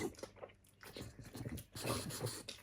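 A dog chews and crunches food up close, with wet, irregular bites and smacking sounds in quick bursts.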